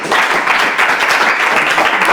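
A show audience applauds contestants, a loud continuous wall of clapping that stays even throughout the short stretch.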